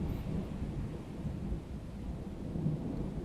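Low, continuous thunder rumbles through a thunderstorm with faint rain, a steady deep roar at moderate volume with no voices.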